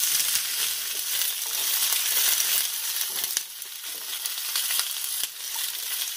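Tomatillos charring in a hot pan over medium-high heat for tomatillo avocado salsa, giving a steady, close hissing sizzle with faint crackles and a couple of brief dips, no talking.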